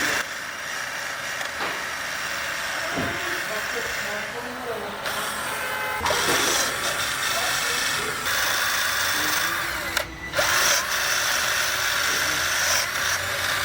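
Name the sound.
wire brush cleaning a Fiat Uno rocker cover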